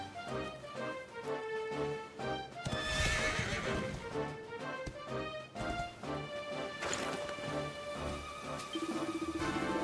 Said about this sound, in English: a fine steed will gallop out of nowhere just like that